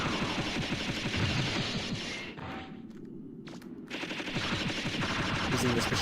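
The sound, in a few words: machine gun firing in Mega Man Legends video game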